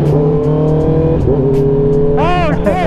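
Honda CBR650R engine revving with the factory quick shifter, loud and close, a sustained droning note that dips briefly and then climbs sharply in pitch near the end.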